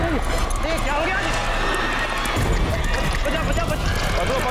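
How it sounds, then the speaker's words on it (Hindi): A pony whinnies and its hooves clatter amid loud, chaotic commotion in a tense horror-drama scene, with excited voices and crowd noise layered densely over the animal. "ये घोड़िया टट्टू अबे कितना शोर बजा रहा है"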